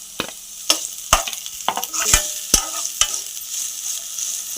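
Finely chopped curry leaves frying in a pan for an egg samosa filling, with a series of sharp crackles and spatters popping irregularly over a continuous hiss.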